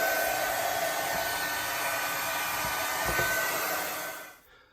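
A heat tool blows steadily with a loud, even whooshing roar, reheating a strip of hot glue on a Halloween journal, then winds down and cuts off at the end; no talking.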